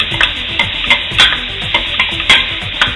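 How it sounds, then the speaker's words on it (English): Button mushrooms sautéing in butter and olive oil in a pan, a close, loud sizzle with a regular rhythm of scraping stirs about every half second and occasional utensil taps on the pan, without any talking. "first I'm going to do these little button mushrooms. We saute those first."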